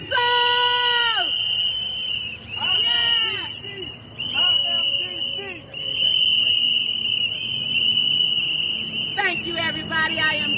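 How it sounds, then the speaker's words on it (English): A crowd at a DC political rally blows shrill whistles, with many overlapping piercing blasts and trills sounding loud and close, alongside shouting. "1, 2, 3, blow those whistles!"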